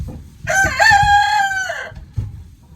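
A rooster crows once, loud and close, a long rising-then-held call lasting over a second, with some clucking and rustling around it.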